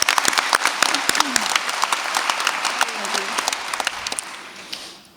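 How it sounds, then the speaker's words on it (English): Audience applause at a women's panel of the Santa Barbara International Film Festival: steady, dense clapping from a seated crowd, fairly close, holding for about five seconds before tapering off at the end. "I think we all deserve a little round of applause for that"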